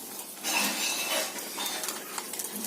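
Urad dal and chana dal fry with asafoetida in a pan, a soft sizzle mixed with spoon stirring and scraping against the metal, close and fairly quiet.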